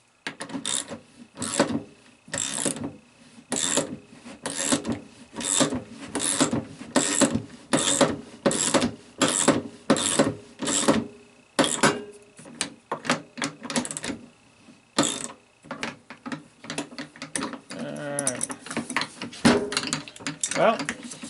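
A self-locking nut is tightened on a toy wagon with a ratcheting tool, producing a long run of rhythmic, close clicking and rasping bursts, then quicker irregular clicks near the end.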